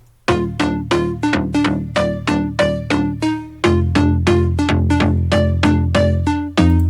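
Plucky synth notes play a bouncing counter melody in a steady rhythm, and a deep bass layer joins halfway through. The music is close and loud, with no voices.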